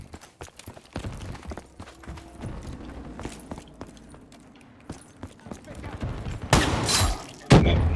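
Gunfire erupts in the video game Call of Duty Black Ops 3, scattered shots and thuds leading to a loud burst of rapid fire near the end, with game voices and talking over it.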